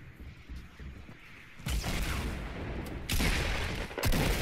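Fortnite PC gunfire in a chaotic solo match, with rapid bursts of shots and booming blasts that grow louder and denser after a quieter opening, heard up close.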